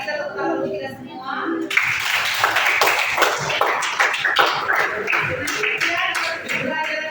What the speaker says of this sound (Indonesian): mari kita tepuk tangan untuk kita semua